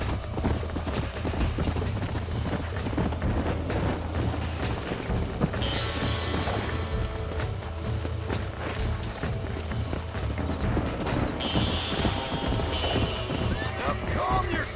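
Rhythmic hoofbeats of a galloping horse in Red Dead Redemption 2 pound steadily, with a couple of whinnies and occasional booms, while a voice talks over the action.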